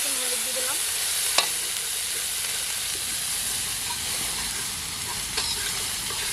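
Spice paste of ground dried chilli and ginger frying with turmeric in a pan, a steady close sizzle with light stirring scrapes and a couple of brief clinks.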